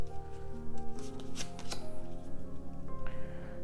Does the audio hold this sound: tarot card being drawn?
yes